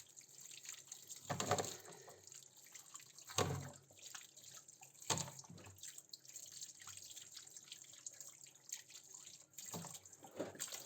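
A goat or sheep head rinsed under a running tap: faint steady water flow with a few louder splashing bursts as it is turned and washed, heard close but quiet.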